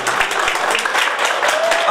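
Wedding guests at a Cucorani reception applaud little Teodor, a dense wash of clapping filling the whole moment while a voice speaks over it.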